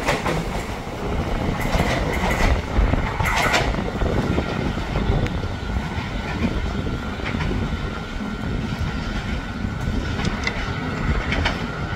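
KRL Commuter Line electric train of twelve cars arriving at Universitas Indonesia station, a steady loud rumble and rail clatter running throughout, with faint squeals and no talk.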